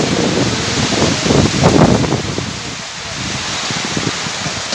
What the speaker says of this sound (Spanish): está perrísima la lluvia, el viento